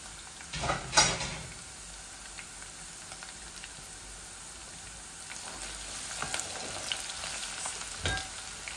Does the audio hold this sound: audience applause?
no